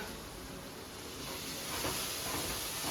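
Masala spices roast in a pan for a singhara chutney, giving a faint, steady hiss and sizzle that continues evenly with no talking.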